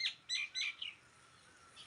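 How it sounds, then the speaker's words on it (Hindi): Several birds, including doves, mynas and sparrows, chirp in a short burst of high, quick tweets in a home courtyard garden, a few close calls followed by fainter chatter, with no talking. "बहुत सारी बर्ड्स मेरे आंगन में रहती हैं, आती हैं, जिसमें से घुघुती है, सिंटुलिया है, मैना"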